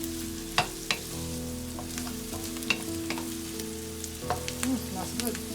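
Garlic, onion and ginger sauté in a pan for fermented fish and rice, a soft steady sizzle broken by repeated scrapes and clicks of stirring, close by with a low hum underneath and no talk.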